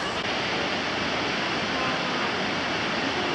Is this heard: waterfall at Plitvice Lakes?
yes